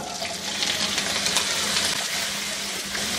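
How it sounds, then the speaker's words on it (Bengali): Diced potatoes and cauliflower fry in hot oil in a wok, producing a steady, loud, close hissing sizzle that holds without a break. "এইগুলাকে দিয়ে একটু ভেজে নিব।"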